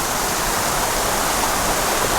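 Creek water rushing in a Colombian jungle near Gambita, a steady broadband roar of flowing water, close and continuous with no breaks or voices.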